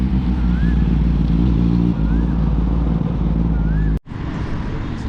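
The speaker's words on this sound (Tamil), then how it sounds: "ஸோ இப்போது ஒரு வண்டி வந்துட்டுருக்கேன், ZX 10R. சவுண்டை பாருங்க கைஸ்." A Kawasaki ZX-10R sport motorcycle's exhaust drones in a deep, steady, loud rumble close by, cut off sharply for an instant near the end before the engine noise returns.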